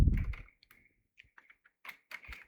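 Short, irregular bursts of computer keyboard typing, quiet clicks and taps with small pauses between them.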